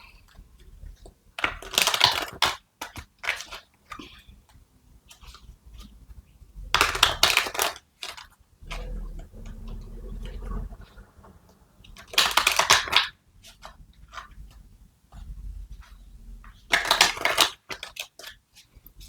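Moonology oracle cards being shuffled in bursts of crisp riffling and slapping, four distinct rounds separated by quieter handling, close and alone with no talk.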